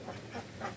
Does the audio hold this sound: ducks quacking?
yes